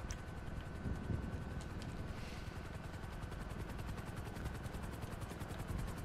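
A helicopter in the GTA V Online video game hovers close by, its steady rotor chop and engine whine running loud and continuous throughout with no speech.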